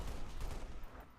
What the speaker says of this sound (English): if you just lightly tap the trigger, it should only fire off like 1 or 2 shots